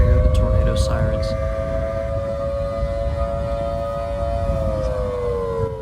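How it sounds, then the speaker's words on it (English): A civil defense tornado siren wails steadily in the Roblox storm-chasing game Twisted, a sustained rising-and-falling tone holding for several seconds over a dense rumbling background, with faint voices underneath. "Oh, there go the tornado sirens."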